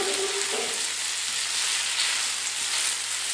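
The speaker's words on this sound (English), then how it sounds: "Now we're gonna add our noodles to this. I added the pasta to the pan." Spaghetti noodles fry in a pan with crispy pancetta for carbonara, giving a steady, close hiss of sizzling oil that runs unbroken from start to end without any voices.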